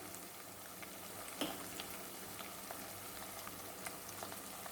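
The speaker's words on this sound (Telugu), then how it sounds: "మాడకుండా చూసుకుంటూ వేయించుకోండి." Prawns and ladyfingers fry in a pan with a low, steady sizzle and scattered crackles, including one sharper pop, quiet and close with no voices.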